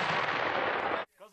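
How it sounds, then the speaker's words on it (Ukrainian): One sustained roaring artillery blast fills most of the clip, then cuts off abruptly into a short quieter tail. "Постріл."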